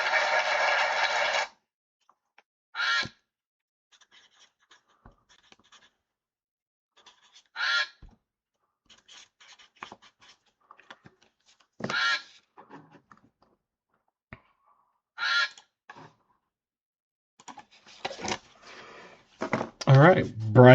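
Duck honking sound effects in an online duck race game, repeated as about six short, loud honk bursts spaced a few seconds apart over near-silence, with brief voices toward the end.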